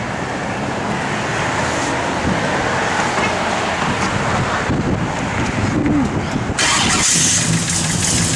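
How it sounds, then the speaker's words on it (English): A 1972 Chevrolet Chevelle SS big block V8 idles and runs with a rough, rumbling tone amid wind noise outdoors, fairly loud and steady with slight surges. "good sounding big block"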